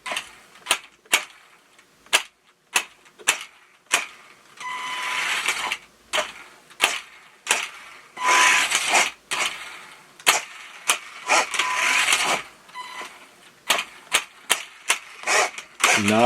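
A Grasshopper II RC car transmission whirs and clatters in short bursts as the throttle is tapped repeatedly, sharp clicks alternating with longer grinding spurts, close and fairly loud.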